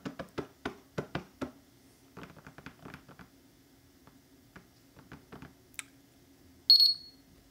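A series of soft taps and clicks, then a single sharp electronic beep from a Coros Dura GPS bike computer near the end, high and clear against a quiet background.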